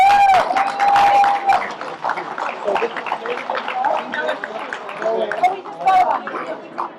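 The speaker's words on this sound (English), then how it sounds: "Yeah, we can give a round of applause for that" Applause and cheering from guests welcomed to the Joe Garassino 6th Annual Golf Outing, clapping mixed with crowd chatter and voices talking over it throughout.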